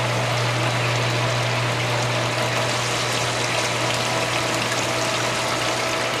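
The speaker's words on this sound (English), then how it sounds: "it's sucking that oil from the drain pan and pushing it back through so you can clean all the crumbs out" A Frymaster fryer drains its oil while a pump draws it from the drain pan and pushes it back through the fryer. A loud, continuous rushing flow sits over a steady low motor hum, with no pauses.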